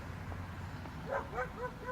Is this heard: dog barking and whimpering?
yes